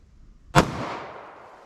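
A single .45 ACP Winchester USA Ready round is fired nearby during a ballistic gel test. One sharp, loud crack is followed by a short fading echo.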